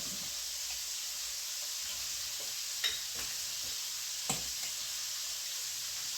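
Chicken wings cooking in a pan with butter give a steady, even sizzle that runs from start to end, with two brief sharper pops and faint clinks at moderate distance, no talking.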